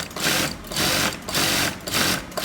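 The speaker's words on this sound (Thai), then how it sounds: "แล้วก็เย็บปิด เย็บปิดข้างล่างด้วย" A sewing machine stitches a shirt collar closed. Its motor hums loud and close in four steady bursts, each about half a second, separated by brief pauses.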